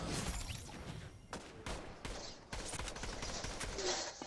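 Scattered bursts of gunfire in a Fortnite Zero Build squads match, sharp cracks and rattling volleys at moderate distance spaced irregularly over the game's ambient noise.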